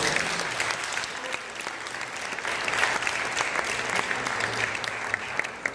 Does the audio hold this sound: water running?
no